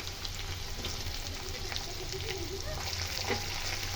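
Potato pieces sizzle and crackle in oil in a pan, a dense, continuous frying hiss with faint scraping as they are stirred, steady and close throughout.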